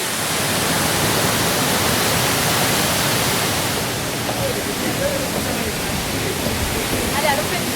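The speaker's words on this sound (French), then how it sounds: "à côté de la cascade, comme ça, c'est juste magnifique" Waterfall in Mauritius rushing as a loud, steady broadband roar that fills the whole stretch, with a slight drop in intensity partway through and faint voices beneath the water noise.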